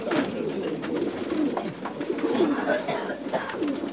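Phulsara pigeons cooing in a loft, a close chorus of soft, repeated rolling coos that overlap continuously, with a voice talking in the background.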